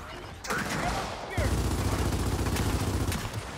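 Gears of War 4 gunfire bursts in abruptly, rapid loud shots with mechanical clatter that intensify into a heavier sustained barrage, and a voice talks over the action.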